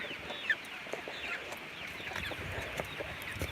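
Backyard chickens cluck and murmur in a cold outdoor coop, soft overlapping clucks and a few sharper calls at moderate distance, steady throughout without any talking.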